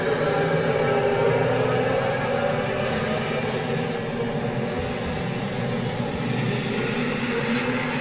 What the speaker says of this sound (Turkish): Motor çalışma sesleri.